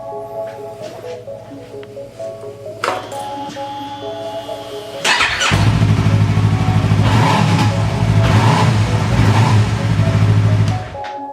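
A motorcycle engine idles steadily, then the throttle is opened and the revs rise to a louder, sustained roar that holds for several seconds.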